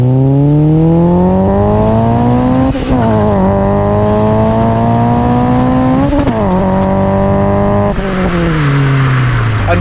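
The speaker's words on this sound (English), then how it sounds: "This thing is running an original Mugen Sports exhaust system." A 1998 Honda Integra Type R with an original Mugen Sports exhaust revs loudly and close in Bangalore, its raspy engine note climbing and dropping through several throttle blips.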